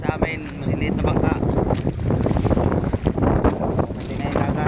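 Strong northeast monsoon wind buffets a small fishing boat at sea, a loud, gusty rush and rumble with splashing water. A voice talks over it throughout.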